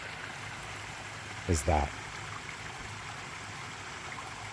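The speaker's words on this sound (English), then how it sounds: "sweet sound of the waterfalls" Water from a waterfall spills steadily into a backyard koi pond, a constant close rushing wash that runs the full length, with a brief spoken voice breaking in midway.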